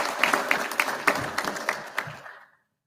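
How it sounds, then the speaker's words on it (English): A graduation audience of a police basic training class applauds a guest speaker, brief clapping at moderate distance that fades out after about two and a half seconds. "if we could give her a round of applause"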